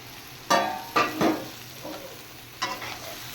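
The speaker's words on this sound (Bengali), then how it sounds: "এবার দিয়ে দেব ভেজে রাখা এঁচড়।" Fried raw jackfruit tossed into a sizzling paste of turmeric, chilli powder and salt, giving a few loud bursts of frying hiss and spatula stirs up close, with no talk.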